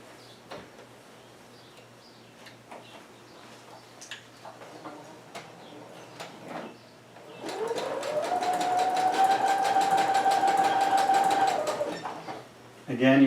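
Sewing machine stitching the leg seam of a spandex bodysuit, running in one steady, loud burst of rapid stitching after a stretch of quieter handling sounds, with a voice talking earlier.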